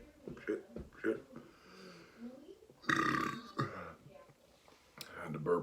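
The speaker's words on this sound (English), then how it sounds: "burp prior to that swallow." A burp after swallowing malt liquor, a short throaty eructation heard amid quiet mumbling and breathing, fairly faint and close to the microphone.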